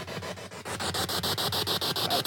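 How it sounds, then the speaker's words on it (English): A spirit box sweeps radio static in reverse through loudspeakers, a loud rasping noise chopped into rapid regular pulses, continuous and close with no talk. "I'm doing a spirit box thing in the basement. Got this going in reverse,"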